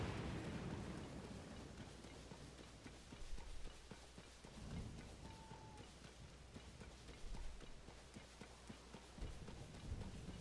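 Horses in the video game Zelda: Tears of the Kingdom trot with soft, rhythmic clip-clop hoofbeats amid a rumbling, stormy background, faint and low in level.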